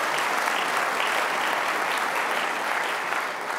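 A large audience at a European advertising technology summit bursts into dense, sustained applause, a steady wash of many hands clapping together at even loudness that tapers slightly toward the end.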